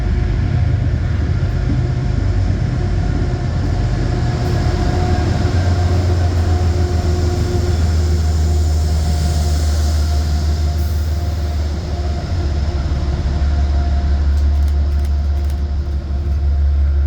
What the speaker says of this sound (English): we caught the 9:59 train departing from Poughkeepsie